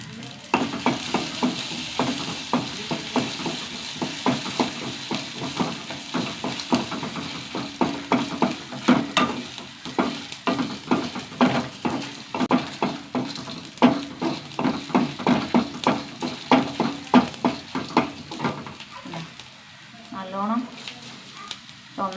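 Cumin seeds and dried red chilies frying in a pan with whole coriander, stirred briskly: a steady sizzle broken by a rapid run of scraping stirring clicks, with a voice talking at times.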